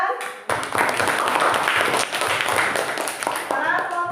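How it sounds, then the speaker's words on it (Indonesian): A classroom of students claps for a group that has just presented, a burst of scattered, lively applause from a crowd of children heard alongside voices talking. "Untuk kelompok 3, beri tepuk tangan"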